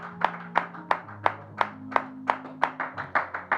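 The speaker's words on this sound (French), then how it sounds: "Acclame pour la parole de Dieu." A congregation at a church service claps in steady unison, about ten sharp, evenly spaced beats ringing out over a low sustained organ or keyboard drone, with no talking.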